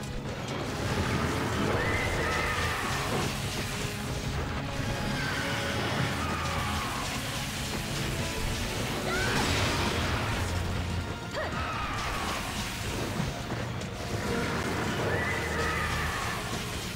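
Horses whinny repeatedly over a dense, busy background of clashing and rumbling battle noise in Monster Hunter Freedom Unite, the neighs recurring every few seconds.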